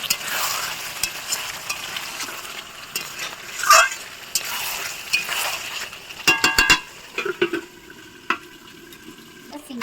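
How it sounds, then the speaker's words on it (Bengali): Desi rooster meat being stirred in a kadai, a spatula scraping and clinking against the pan over a steady background sizzle, with a cluster of sharper metallic scrapes and knocks near the end; no one speaks. "আর মাঝে মধ্যে এরকম একটু খুলে খুলে নেড়ে দেবো মাংসটা, যাতে ভালো করে সিদ্ধ হয় আর তলাতে যেন না লেগে যায় কড়াইয়ে।"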